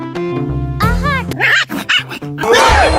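A dog barks and yips in several sharp, close bursts, with a brief whimper, while people talk and shout around it.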